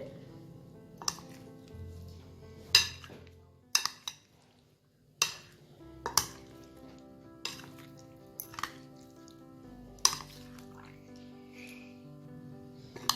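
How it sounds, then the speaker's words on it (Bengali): Paneer and onions are gently mixed in a bowl, soft irregular knocks and clinks of a utensil against the bowl with quiet squishy movement between them, close and faint. "খুব আলতো হাতে এটাকে আমাকে মিক্স করে নিতে হবে"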